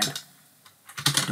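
Computer keyboard typing while entering a git add command at a terminal: a few quiet keystrokes, then a louder burst of rapid clicks ending in a firm key press, close and alone.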